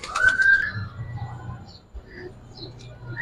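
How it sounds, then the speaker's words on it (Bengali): Pigeons in a gribaz highflyer loft of Army khaki and silver birds give soft, low cooing with a brief whistle-like note near the start, close by and mixed with faint handling noise. "এটা তো ভাই বিশাল কবুতর"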